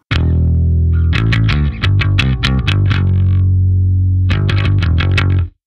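Bass guitar plays the chorus line of a song through a distorted, chorus-effected tone, with loud picked notes in a quick run, a brief gap, then another burst of notes ending abruptly.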